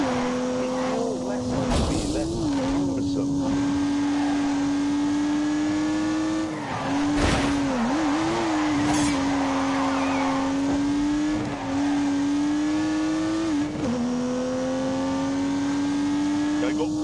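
A racing car with a turbocharged 3-litre straight-six engine from The Grand Tour video game holds a steady engine drone with gear changes and brief tire squeals, under a talking voice.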